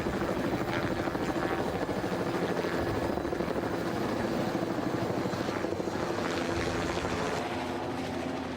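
A helicopter deploying a multi-sensor instrument package at a volcano gives a steady, loud, close rotor thrum with rapid blade chop and engine whine, unbroken for the whole stretch.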